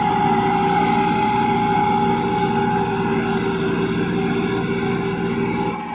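A 1995 Massey Ferguson 375 tractor pulling a plough and leveller through a muddy rice field in Punjab, its diesel engine droning steadily and loudly at close range without a break.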